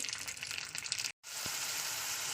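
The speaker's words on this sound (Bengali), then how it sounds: "তেলটা গরম হলে খুব অল্প পরিমাণ কাঁচা জিরে দিয়ে দেবো" Whole cumin seeds sizzle and crackle steadily in hot mustard oil at close range, with a short break in the middle, followed by the same constant frying hiss.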